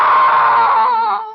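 A woman in an old radio drama lets out a single loud, sustained scream that trails off after about a second.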